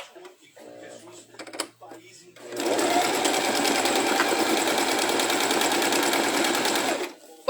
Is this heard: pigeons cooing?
no